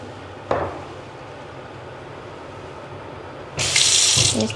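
Tap water runs briefly while mascara is washed off with soap, a short splash followed by a louder, steady stream near the end.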